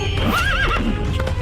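A horse whinnies loudly in a rising and falling call over steady clip-clop hoofbeats, close and continuous in a short burst, with no one talking.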